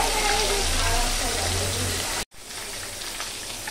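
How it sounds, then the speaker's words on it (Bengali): Fish frying lightly in hot oil, a steady broadband sizzle close by, then cut off abruptly partway through and followed by a softer, thinner crackle. "আর মাছটা বেশি ভাজবো না, হালকা হালকা ভাজবো"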